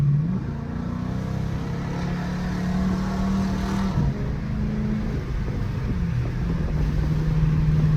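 Chrysler 300C SRT engine droning steadily while driving on a freeway, its note rising and falling through shifts, loud and continuous from inside the car.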